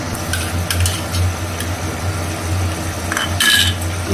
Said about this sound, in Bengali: এবার দেব এর সাথে কাজু বাটা